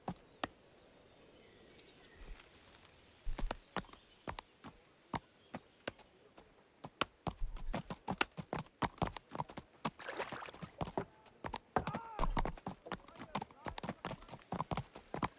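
Horse hooves clip-clop in the medieval game Kingdom Come: Deliverance, sharp irregular clops of a horse moving nearby, sparse at first and then quickening into a denser, louder patter with a few soft ambient sounds between.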